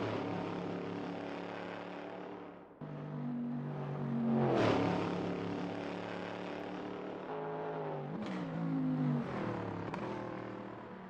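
GT3 race cars lap Bathurst in a sim racing game, their engines droning loudly and close. Revs fall and rise sharply through gear changes, with brief squealing bursts from locked brakes under braking and no talk over them.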